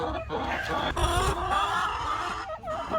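A broody hen clucks and murmurs in a chicken coop at close range, her low, throaty, irregular clucks filling the short stretch.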